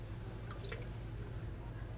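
A freshly dipped craft piece drips into water at a Dollywood Appalachian artisan demonstration, a few brief, light drips over a steady low background hum.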